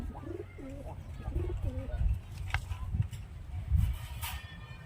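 A male Sabja pigeon coos in a short series of soft, low rolling calls up close, followed by faint rustling and background noise.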